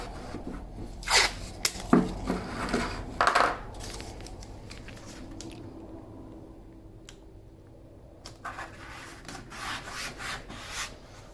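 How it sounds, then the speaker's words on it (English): Old material is scraped out of the daggerboard slot of a Kona One windsurf board, with a run of close, uneven rasping and rubbing strokes that fade to softer scratching. "This is how the interior looks after we finished scraping it of the old material"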